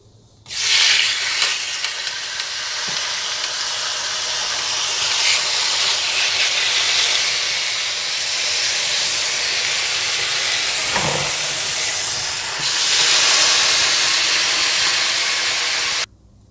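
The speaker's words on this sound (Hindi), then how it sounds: "और इसके बाद बीफ के पीसीस को दोनों तरफ से ग्रिल कर लीजिएगा।" Beef pieces sizzle on a grill with a loud, continuous bright hiss lasting about fifteen seconds, swelling slightly near the end, close and steady with no voices.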